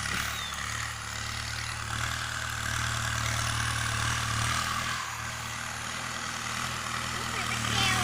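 A Kubota M6240 tractor ploughs a wet rice paddy, its engine droning low and steady throughout while someone talks over it.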